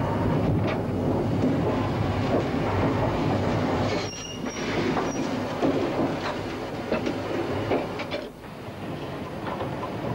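A 1958 steam train on the Lickey Incline rumbles and clatters steadily along the rails as it accelerates away from its banking engine, wheels squealing briefly, a continuous loud rolling noise with no voices.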